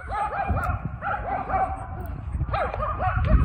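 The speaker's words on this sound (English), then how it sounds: "Some dogs barking at each other." Several dogs bark and yip back and forth in quick bursts, a few whimpering tones among them, fairly close over a steady background hum with a brief pause midway before the barking resumes.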